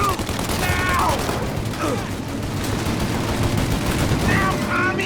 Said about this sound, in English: Shoot up your gun when there's a break in the fire!